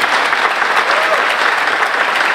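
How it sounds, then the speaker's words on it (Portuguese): Church congregation clapping during a morning service, a loud, even burst of many hands applauding continuously with no pauses. "pode aplaudir o Senhor pela vida do Vinícius."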